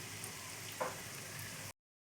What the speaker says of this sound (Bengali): লো ফ্লেমে এইভাবে 10 মিনিট ভেজে নিতে হবে